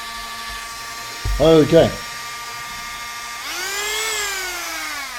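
A high-pitched rotary tool with a sanding bit whines steadily and rises in pitch, with a brief spoken word just before it starts.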